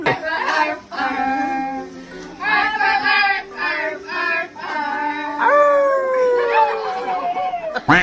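Several dogs howl together in long, wavering cries that rise and fall over about eight seconds, joined by people making howl-like sounds, as a birthday song.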